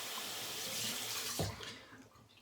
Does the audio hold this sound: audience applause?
no